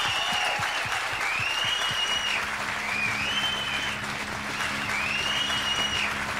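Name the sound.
audience applause for dancers on a VHS recording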